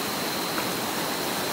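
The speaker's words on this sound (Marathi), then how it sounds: "तर ही आहे नदी आमची" A river flowing past in the Konkan countryside, a steady broadband rush of moving water close by and fairly loud, with no talking.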